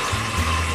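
Water runs steadily from an industrial sink faucet, a continuous close hiss with a low rumble beneath it, left flowing alone with no voices.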